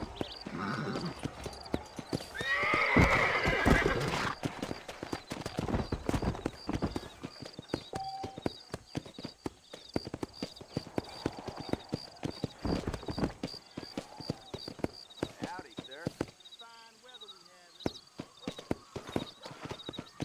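Horse hooves clip-clop steadily along a trail in the Western video game Red Dead Redemption, with a brief whinny early on and faint voices and ambient game sounds around the steady hoofbeats.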